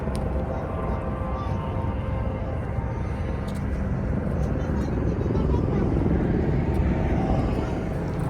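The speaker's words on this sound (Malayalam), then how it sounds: "അടുത്താണ് അതുകൊണ്ടാണ് ഈ ഹെലികോപ്റ്ററിൻ്റെ ഫുൾ ടൈം സൗണ്ട്" A steady, loud low rumble of a tour helicopter fills the air throughout in Las Vegas, a continuous engine drone that slowly grows a little stronger.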